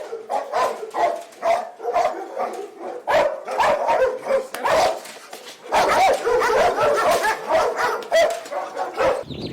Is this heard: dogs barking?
yes